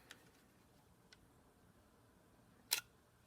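Leica IIIf rangefinder shutter opening on the B setting, one sharp, crisp mechanical click after a couple of faint soft ticks, quiet and close with nothing else around it.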